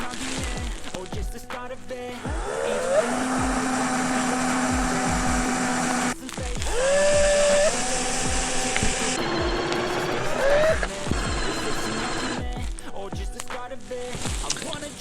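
A cordless drill bores small holes into wood while a bird feeder is being built, with several loud whining bursts that rise in pitch as the bit spins up, separated by short pauses of handling noise.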